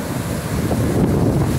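Strong wind buffets the microphone over rough surf at Pensacola Beach a few hours before Hurricane Helene makes landfall, a steady loud roar of gusts and breaking waves throughout.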